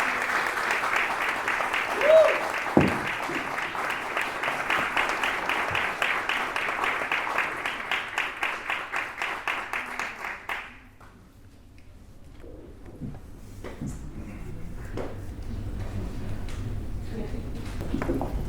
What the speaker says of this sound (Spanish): aplauso fuerte para Bruno Gardeñes.